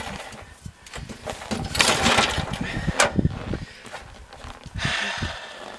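A worn-out junk snowblower's small engine runs rough and uneven nearby while its throttle is adjusted, the revs surging and dropping with knocks and clatter mixed in.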